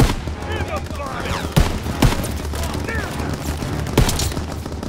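Heavy gunfire fills a World War II battle in the Hurtgen Forest video game, with rapid bursts, a few sharp loud shots standing out, and a constant low rumble of combat underneath, while voices shout beneath the din.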